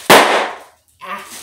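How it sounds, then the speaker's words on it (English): A small handheld party popper toy goes off with one sharp, loud crack like a gunshot right up close, followed by a brief burst of fainter rustling. "I love these little popper things"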